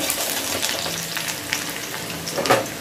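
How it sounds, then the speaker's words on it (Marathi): Garlic and spring onion stir-frying over a high flame make a dense, loud, continuous sizzle, with occasional scrapes of a spatula and a sharper clink near the end. No one speaks. "लसूण आपण हाय फ्लेमवरच परतून घेणार आहोत"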